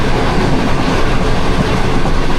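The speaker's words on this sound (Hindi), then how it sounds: "ये दोस्तों ट्रेन इस वक्त हमारी गुजर रही है जी पत्तों की रेलवे स्टेशन से" Pak Business Express train running through a railway station, a loud, close, continuous rumble of wheels and carriages with faint rhythmic clatter, no voices.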